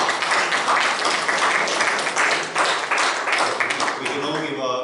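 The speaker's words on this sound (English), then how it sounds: "We can all give ourselves a clap" Church congregation applauding together in a Uniting Church service, a steady, dense round of clapping that fills the room for several seconds before thinning out at the end.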